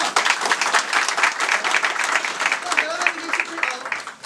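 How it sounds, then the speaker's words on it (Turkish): Group applause rings out in a room in Kahramanmaraş after a young table tennis player is praised, brisk overlapping claps throughout with a voice briefly heard near the end. "Bravo alkış alkış"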